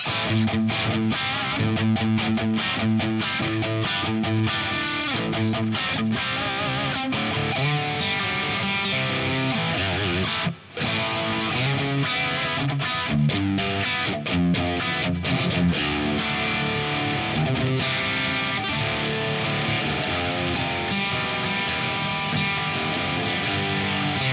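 A distorted Singtall Dragon Model electric guitar with a single coil pickup plays a bright, cutting riff, loud and close, with sustained chords and a brief gap midway.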